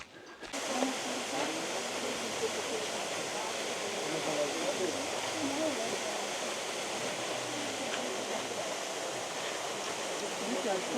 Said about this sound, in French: On va aller voir une cascade.